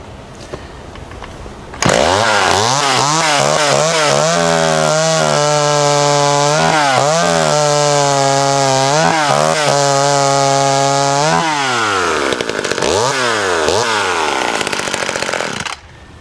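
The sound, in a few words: vintage mini chainsaw cutting wood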